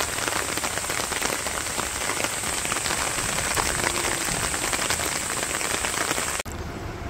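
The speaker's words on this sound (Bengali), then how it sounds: "একটু একটু বৃষ্টি হইলো।" Light rain patters steadily on a rural village home's surroundings, a constant, even hiss of drops with no voices, cutting off abruptly near the end.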